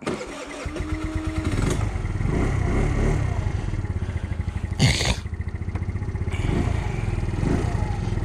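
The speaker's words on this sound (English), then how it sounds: "Guess I could let you hear the exhaust." A Kymco Agility 50 scooter's small engine and exhaust running close by, starting with a sputter and then holding a steady buzzing idle with a brief rev near the middle, loud and alone without talk.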